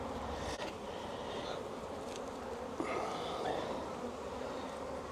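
Honey bees buzz steadily at an open beehive during a spring hive inspection, a dense continuous drone that fills the whole stretch with no talking.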